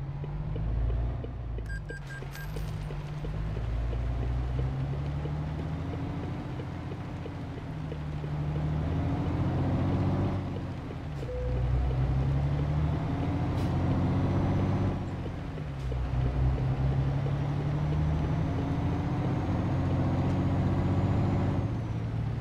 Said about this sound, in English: So let's get the engine started.